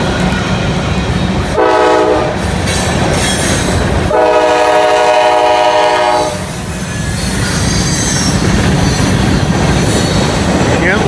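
A CSX freight train rumbles past close by with a constant roar of rolling wagons, while its horn sounds two blasts, a short one and then a longer sustained one, over the heavy noise.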